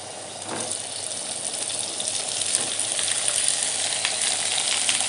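Potatoes frying in hot oil with turmeric and leaves for a Janmashtami offering thali: a steady, close, loud sizzle that swells slightly, with faint stirring scrapes and no voices.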